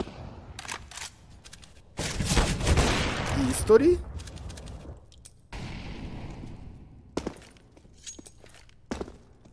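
Gunfire in a Counter-Strike match on the Mirage map comes in scattered bursts and single shots amid footsteps, with a dense volley near the start. An excited commentator talks over the action.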